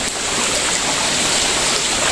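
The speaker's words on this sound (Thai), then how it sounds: "เสียงคือ ธรรมชาติน้ำตกบานเฮานี่แหละครับพี่น้อง" Steady rushing water from a natural waterfall and stream at a scenic mountain viewpoint, a dense, even roar that stays loud and unbroken throughout with no voices.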